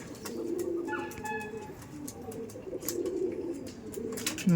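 Kaldom pigeons cooing at a pigeon-rearing farm in South 24 Parganas, with soft, repeated coos and scattered chirps layered over a steady low murmur of many birds nearby.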